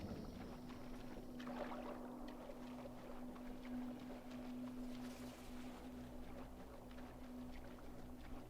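Sailing ship crossing open sea in Assassin's Creed Black Flag, a steady wash of water and wind with a low sustained hum running underneath, continuous and even throughout with no talking.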